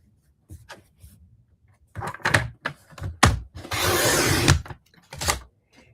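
Card stock base being cut to size for a fun-fold greeting card, heard as a few short scraping strokes and a longer steady rasping pass of a paper trimmer or blade, close and alone in a quiet room.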